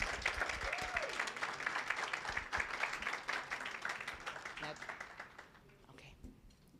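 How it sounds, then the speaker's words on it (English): Audience applause at an awards luncheon during an HBCU student leadership and social justice conference, a sustained wash of clapping that gradually thins and fades toward the end, with some voices mixed in. "Please clap it up for Erica Bridgeford."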